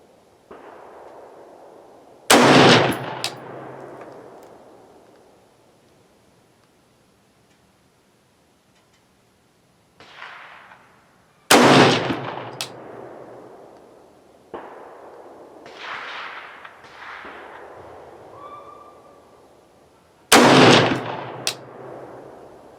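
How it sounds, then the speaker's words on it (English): Loud, sharp rifle shots from rifle cartridges loaded with pistol primers ring out several seconds apart outdoors, each a sudden crack with a short echo, with quieter clicks and handling sounds between. "Five shots."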